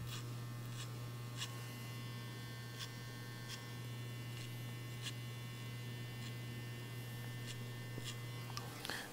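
Electric hair clippers buzz steadily while cutting a man's hair against the grain with the blade lever fully open, a close, constant motor hum with faint clicks of the blade passing through hair.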